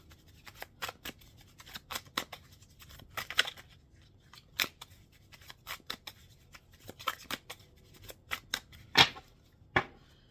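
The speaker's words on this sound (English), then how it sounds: "Let's get a good shuffle out of these cards now." Crisp, irregular riffling and snapping of playing cards being shuffled, close up, in short bursts with brief pauses and no talking.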